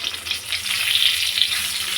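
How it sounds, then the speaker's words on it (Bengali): Four pieces of tender eggplant and one pointed gourd fry in a pan, a steady close hiss and crackle of sizzling oil with no voices. "আর এখানে ভাজছি, বেগুন ভাজছি"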